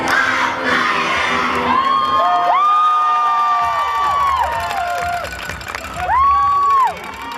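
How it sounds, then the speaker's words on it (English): A crowd at a junior all-star cheer and dance competition cheers, shouts and whoops loudly throughout, with high children's voices screaming in a sustained roar that swells again near the end. "a nice big round of applause for their next number"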